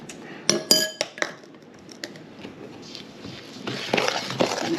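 A metal spoon clinks and scrapes against a bowl while mixing cookie dough and breaking up clumps, several sharp taps at first, then a softer, continuous scraping stir, close and fairly quiet.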